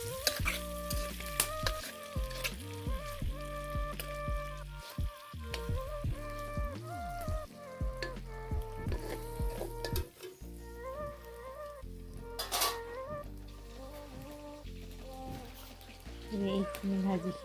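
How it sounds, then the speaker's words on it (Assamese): Fish pieces fry in oil in a wok, giving a continuous soft sizzle with occasional stirring scrapes under louder music that plays throughout. "মাছ পিচ দি দিলোঁ, মাছ পিচ অকণমান ফ্ৰাই কৰি লওঁ"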